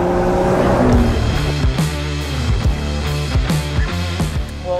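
A 2021 Mercedes GLE 53 Coupe in Sport Plus mode accelerates hard from inside the cabin, the engine note climbing through several quick gear shifts, each marked by a brief dip and renewed rise, loud and close.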